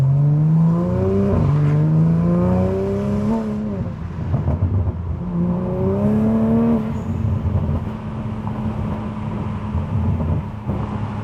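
A Dodge Viper on new tires pulls hard under acceleration on a hot day with the windows down, heard from the driver's seat as a loud rising engine and intake drone that climbs in pitch through gear changes.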